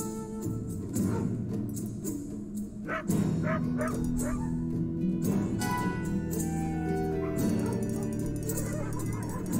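Dogs in the video game Solstice bark, yip and whimper repeatedly across the whole stretch, with loud, close, overlapping barks over a droning music bed.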